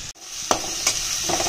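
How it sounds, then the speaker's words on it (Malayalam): Garlic sizzles steadily in hot oil in a Kerala-style iron kadai while a spoon stirs it, making a few distinct scraping strokes over the constant close frying hiss. "നന്നായി വെളുത്തുള്ളിയുടെ സ്മെല്ല് വരണ വരെ ഒന്ന് ഇളക്കി കൊടുക്കുക."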